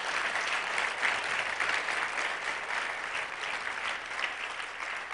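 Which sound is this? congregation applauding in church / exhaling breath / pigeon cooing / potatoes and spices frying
congregation applauding in church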